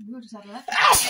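A single sharp sneeze bursts out near the end, loud and close, right after a brief stretch of speech.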